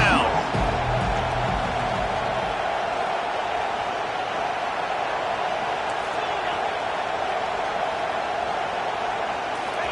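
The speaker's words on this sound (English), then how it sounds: "Decibels rising as the crowd gets behind this defense on third down." Steady roaring crowd noise from a college football stadium in the NCAA 25 video game, LSU versus Notre Dame, a loud sustained wash of cheering building on a defensive third down, with commentary voices over it.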